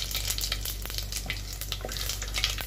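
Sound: garam masala frying in oil

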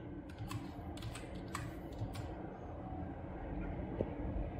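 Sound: typing a password on a laptop keyboard

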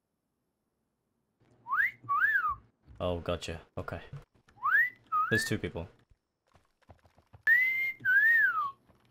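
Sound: player whistling over voice chat in DayZ

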